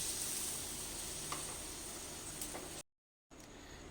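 Water poured into frying masala for a vegetarian eggplant dish, producing a steady, hissing sizzle with faint stirring scrapes. The sound cuts out briefly, then the sizzle resumes.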